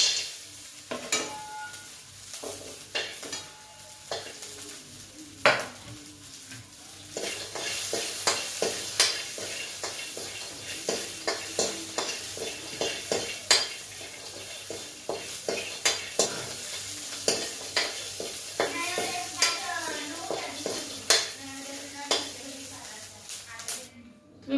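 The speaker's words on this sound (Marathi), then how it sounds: "यानंतर मी मिरच्या आणि शेंगदाणे भाजून घेणार आहे." Green chillies and peanuts are roasted in a pan for a Maharashtrian tomato thecha, giving a steady sizzle broken by sharp, repeated scraping and stirring clicks of a spatula, close and fairly loud, with occasional voice in the background.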